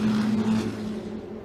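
A Ferrari Challenge race car brakes at the Imola circuit, heard as a brief steady engine drone with a strong low tone that fades as the car slows, with no voices.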